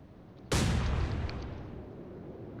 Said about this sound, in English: Koenigsberg is firing.